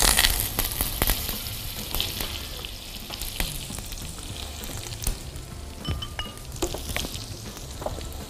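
Butter melts in a hot pan for chicken in butter sauce, a close crackling sizzle with scattered spits and a few clicks, loudest at the start then steady, no talking.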